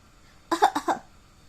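A short burst of three or four quick coughs, close and clear, followed by quiet.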